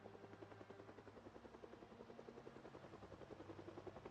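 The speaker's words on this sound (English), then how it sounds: "I'm hearing a helicopter, by the way, guys. I'm sure you guys can all hear the helicopter." A helicopter in the video game Project Zomboid flies overhead, its rotor beating in a fast steady pulse, faint and distant throughout with no voices.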